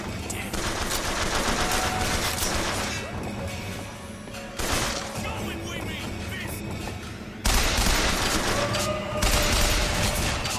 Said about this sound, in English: The machine gun still has the broken sound effect, huh?